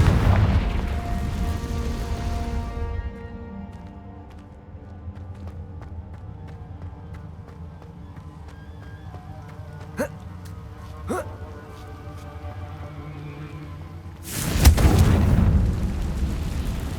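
A Confringo fire spell explodes in the Hogwarts Legacy video game: a loud burst of impact near the start, two sharp short cracks in the middle, then another heavy boom near the end over a low rumbling game backdrop.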